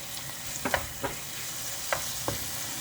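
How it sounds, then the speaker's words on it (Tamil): Onion, ginger, garlic and tomato sauté in a pan for chicken biryani, a steady sizzle broken by several distinct spatula scrapes and taps, close and moderately loud. "வெங்காயம் இஞ்சி பூண்டு அதெல்லாம் கொஞ்சம் வதங்கிட்டோன்னே ஒரே ஒரு தக்காளி சேர்த்துக்குங்க"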